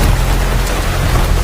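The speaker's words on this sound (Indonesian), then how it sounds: "tiba-tiba hujan mulai turun" Rain beginning to fall in an Indonesian zombie film, a dense, loud, steady hiss of drops with a low rumble beneath, continuous throughout.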